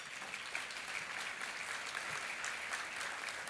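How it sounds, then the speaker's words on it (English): Sustained applause from a crowd at a luncheon, dense steady clapping filling the room without a break. "And Robin and Don, would you like to stand up so everyone can applaud you?"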